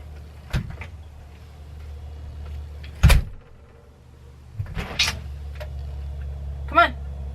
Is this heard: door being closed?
yes